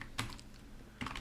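Typing on a computer keyboard while writing HTML code: two short quick bursts of key clicks separated by a brief pause, close and fairly quiet.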